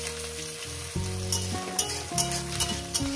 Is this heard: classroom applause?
no